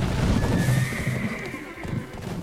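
A horse in the online game Black Desert gives a loud, close whinny lasting about two seconds, with faint hoof clip-clop beneath it and no speech.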